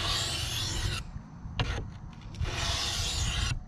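A knife blade is sharpened on a whetstone in two long, close grinding strokes separated by a quieter pause with a couple of light scrapes, the rasp loud and even.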